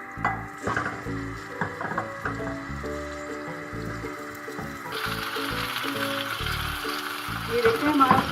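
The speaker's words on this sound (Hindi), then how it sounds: "ये देखिए हमारा चिकन फ्राई हो रहा है" Chicken frying in hot oil in a pan for a spicy chicken karahi, a steady sizzle with clatter of stirring, heard close under continuous talk.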